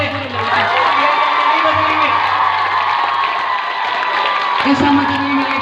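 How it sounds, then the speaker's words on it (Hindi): A crowd of students at a school farewell ceremony claps, cheers and whoops loudly and continuously, a dense roar of shouting children and applause with a low hum underneath. "तालियां हो जाए।"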